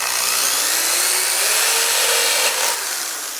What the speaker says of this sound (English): Just press just a little bit until you see the drill going in